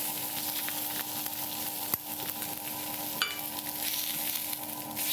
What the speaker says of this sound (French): Je retourne, je fais griller sur toutes les faces.